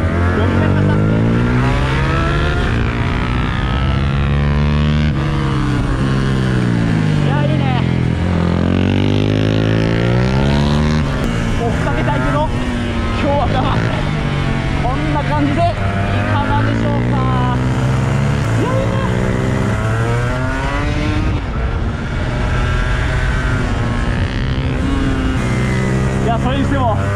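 A Honda NSR250R MC28 two-stroke sport motorcycle laps a race circuit, its engine loud and close with rising and falling revs and a buzzing, rasping tone, while someone talks over it throughout.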